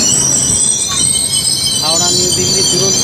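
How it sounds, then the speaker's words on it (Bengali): The Howrah–New Delhi Duronto Express passes close and loud, with a steady metallic roar of rail wheels and bursts of high-pitched wheel squeal throughout. "Howrah new Delhi Duronto express"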